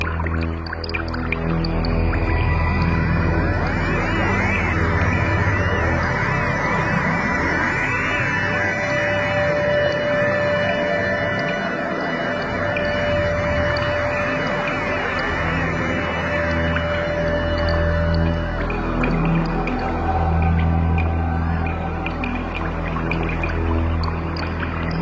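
Sonified space recording of the supernova remnant IC443: a continuous, loud electronic drone of layered sustained tones with slowly gliding pitches and a watery, echoing texture, steady throughout with no voices.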